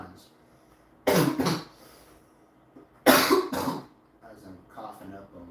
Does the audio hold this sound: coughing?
yes